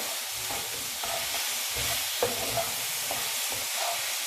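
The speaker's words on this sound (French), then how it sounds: "Je mets la viande dedans. Et continuer toujours à le mélanger." Minced meat frying in a pan while being stirred for homemade samosa filling: a steady broadband sizzle with soft scraping and clinking stirs at irregular intervals, close and moderately loud, no voices.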